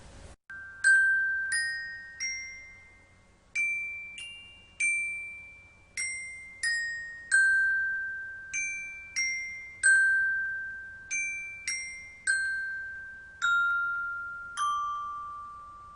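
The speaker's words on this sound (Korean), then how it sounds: "이렇게 금속판의 길이가 짧을수록 진동수가 커져서 높은 소리가 난다는 거예요" Metal plates of different lengths struck one at a time, each giving a clear bell-like ring at its own pitch, about twenty distinct notes over sixteen seconds in an uneven melody, each decaying quickly.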